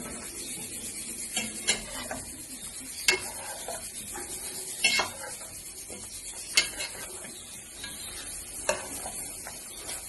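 Chicken korma masala is stirred in a pan, with a spatula scraping and knocking against the pan at irregular intervals over a soft, steady sizzle, heard close up with no voices.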